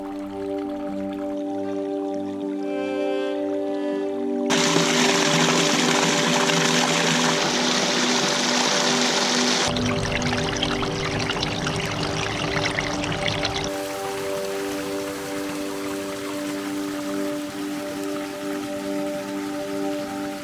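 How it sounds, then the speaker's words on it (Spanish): Water pours from the iron-rich Pol Pol spring fountain in Urkiola Natural Park, a steady, close splashing rush that shifts in intensity over time, with a constant musical tone running underneath. "encontramos la famosa fuente de Pol Pol"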